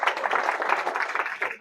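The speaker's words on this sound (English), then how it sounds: "one more round of applause." Audience applause at a 1 Million Cups startup pitch event, a steady dense wash of many hands clapping that holds evenly for the whole stretch and tails off slightly at the end.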